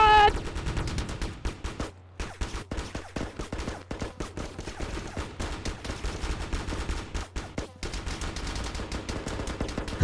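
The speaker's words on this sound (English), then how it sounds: "I'm shooting that dude's head." Rapid bursts of gunfire from the Roblox shooter Operation Scorpion, sharp repeated shots in dense volleys with brief pauses, loud and continuous across the clip.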